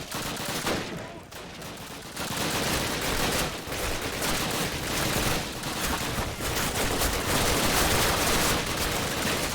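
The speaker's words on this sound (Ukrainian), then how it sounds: "Дуже-дуже багато стрілянини." Dense, continuous Call of Duty video game gunfire crackles without pause, rapid bursts layered over one another at a steady loud level.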